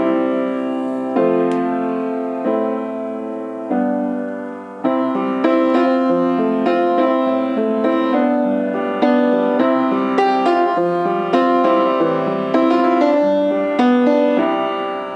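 Piano chords played in a repeating progression, sustained and steady, with later repetitions sounding altered and more textured; no voices.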